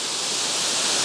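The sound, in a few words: Yorkshire waterfall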